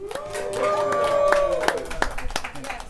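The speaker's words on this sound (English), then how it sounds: "How about a little round of applause here," A small group claps during a jerk chicken tasting on a viewer trip to Jamaica. The scattered claps are close and mixed with a voice that keeps talking over them.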